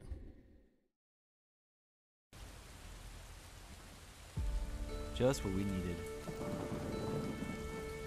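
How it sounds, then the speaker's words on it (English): Rain in the PC game The Idol: Lore: Curse of the Elemental starts suddenly after a silent pause, a steady hissing downpour that grows heavier, with a low rumble and someone speaking briefly over it. "Instant rain."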